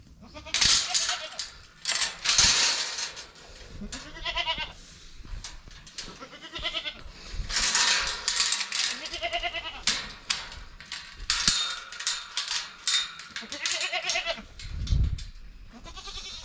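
Goats bleat repeatedly inside a homestead goat barn. Several nearby animals give wavering cries one after another over clattering and rustling barn noise.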